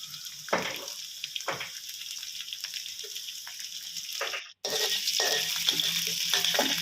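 Pork and garlic fry in a hot pan with a bright, continuous sizzle, a few louder bursts as pieces are moved, and a short drop out before the hiss comes back stronger.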